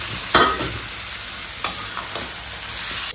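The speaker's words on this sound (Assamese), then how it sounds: "ধুনীয়াকৈ ভাজি ল'ম ইয়াতে" Chicken fries in a pan with a steady, close sizzling hiss, broken by a few brief spatula scrapes or clatters.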